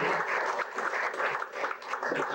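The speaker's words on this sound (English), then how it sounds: "Big round of applause for these guys." An audience at an Alamo Drafthouse Q&A screening applauds in a dense, continuous wash of claps that holds steady and loud throughout, with no voices standing out.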